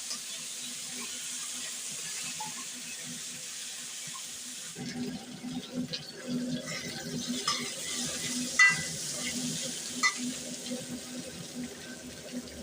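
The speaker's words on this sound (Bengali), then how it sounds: "এগুলো একসাথে এখন ভেজে নেবো নাড়াচাড়া করে" Tender young pointed gourd pieces fry in a pan, a soft sizzle that turns louder partway through as stirring begins, with irregular scraping and clinking strokes at close range.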